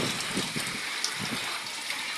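Heavy typhoon rain and gusting wind roar in a dense, constant wash of noise, loud and close throughout, in Laguna, Philippines.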